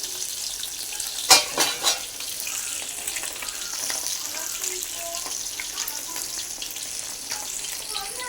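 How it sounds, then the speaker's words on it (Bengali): Fish frying in a pan in a home kitchen gives a steady, low crackling sizzle throughout, with a brief louder clatter of utensils near the start. "এদিকে মাছ ভাজা হচ্ছে"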